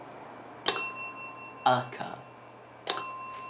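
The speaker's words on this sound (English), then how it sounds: "The bell isn't helping at all. It's really, really annoying." A bicycle-style bell rings twice with sharp, bright dings spaced a couple of seconds apart, loud and close, with a short spoken word between the rings.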